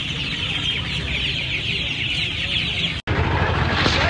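Australian rooster and chickens at a busy poultry market in Uluberia, with steady clucking and fowl calls over constant crowd and market noise, a brief dropout near the end.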